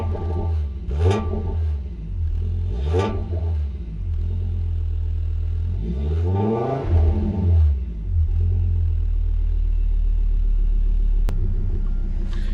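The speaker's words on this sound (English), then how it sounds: "you can listen to the exhaust note of this brand new exhaust" A 1987 Audi Coupe GT five-cylinder engine, running slightly rich through a brand new exhaust, idles with a deep steady rumble and gives three sharp revs that rise and fall, the last one longer.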